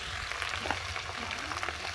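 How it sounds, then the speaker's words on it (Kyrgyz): Potatoes added to a pan with tomato and fried further, producing a continuous close sizzle with small pops and faint stirring scrapes, no voices. "Андан кийин картошканы салып, дагы бир аз кууруп,"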